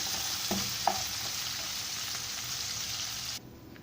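Chopped tomatoes and slit green chilies sizzle steadily in a pan as they are stirred, with a couple of soft spoon scrapes early on before the frying noise cuts off abruptly near the end.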